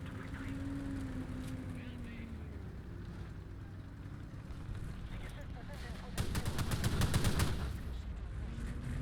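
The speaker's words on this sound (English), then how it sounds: "Alright, just have to machine gun the guy in the back." Machine gun fire from an Sd.Kfz.222 armored car in War Thunder, a rapid burst of rattling shots near the end over a steady engine drone.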